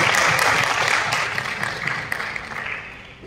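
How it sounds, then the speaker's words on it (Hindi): An indoor audience at a company gathering claps for the management group, a dense burst of applause that starts loud and gradually thins and fades over about three seconds. "इन लोगों के लिए एक बार जोरदार ताली होना"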